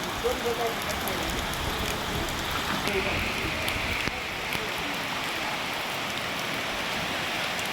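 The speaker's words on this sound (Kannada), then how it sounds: "ಎಷ್ಟು ನಿಂತ್ಕೊಳ್ಳೋಕ್ಕಾಗಲ್ಲ, ಅಷ್ಟು ಜೋರಾಗಿ ಮಳೆ ಬರ್ತಾಯಿದೆ." Heavy rain with strong gusting wind pours down in a dense, continuous hiss, loud and steady throughout with no pauses.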